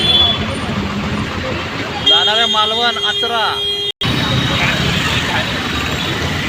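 A long convoy of state transport buses rolls past on the road, loud engine and tyre roar with a sustained horn blast in the middle, while someone talks over it.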